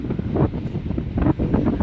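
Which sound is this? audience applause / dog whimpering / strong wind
strong wind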